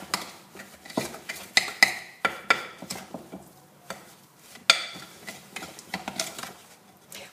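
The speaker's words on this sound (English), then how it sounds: "We're going to cream together the butter and the sugar." Butter and sugar are creamed together by hand in a bowl, a series of close, uneven scraping and clinking strokes of a utensil against the bowl in an irregular rhythm, with no voices.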